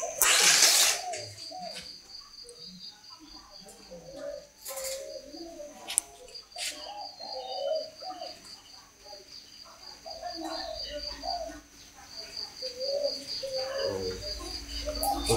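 Spotted doves coo in soft repeated phrases at a Vietnamese bird-breeding farm, with chirps and other birds around, a burst of noise at the start and some background chatter.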